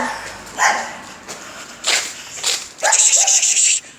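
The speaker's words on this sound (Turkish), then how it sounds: "Burada bir köpek var. Evet. Sesi duyuyorsunuz." A dog barks in a series of sharp, loud bursts, close by, with a longer run of barks near the end and faint movement between them.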